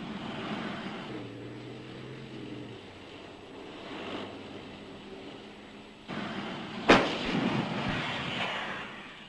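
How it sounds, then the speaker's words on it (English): Swedish S-tank halts and fires its main gun: rumbling vehicle noise and a low droning hum, then one sharp, loud blast near the middle followed by a rolling echo. "As soon as a target presents itself, the S-tank comes to a halt and engages."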